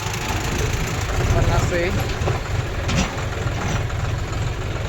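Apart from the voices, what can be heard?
tractor engine running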